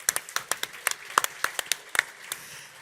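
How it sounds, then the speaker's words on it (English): Scattered applause from a small audience at a Microsoft Ignite governance session, about a dozen distinct claps in an irregular rhythm, fairly faint and thinning out toward the end. "give yourselves a round of applause"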